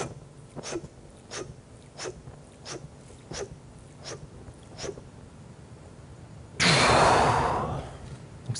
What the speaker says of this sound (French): Donc on commence par la dernière inspiration.